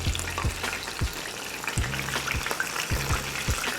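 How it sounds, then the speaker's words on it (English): Shrimp frying in a skillet of oil heated to 350 degrees: a continuous bubbling sizzle with rhythmic low thumps and scraping, close and moderately loud, and no speech. "Once the oil hits 350, we're gonna go ahead and add in our shrimp."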